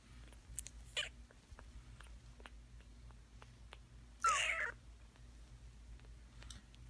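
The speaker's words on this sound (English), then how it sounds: "Oh, okay, you're kittens, but still." Kittens at play give two clear meows, one short and one longer, over a quiet, faintly humming room.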